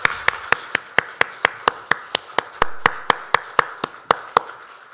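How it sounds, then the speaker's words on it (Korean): A church congregation claps in unison during a Sunday service, about twenty sharp, evenly spaced beats in a steady rhythm, loud and close with no talking. "우리 하나님께 영광의 박수를 올려드리겠습니다"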